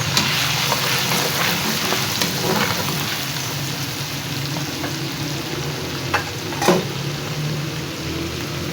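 Garlic ginger paste and whole spices frying in a large pot for chicken rice, a loud continuous rain-like sizzle with a few faint stirring knocks, close and unbroken.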